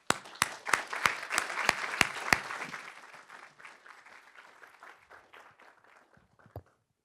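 Audience applause welcoming Marina Silva to the stage at a 2012 speaking event, opening with loud sharp claps over a dense ovation that gradually thins and fades over several seconds until a last scattered clap.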